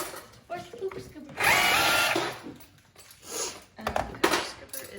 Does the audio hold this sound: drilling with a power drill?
yes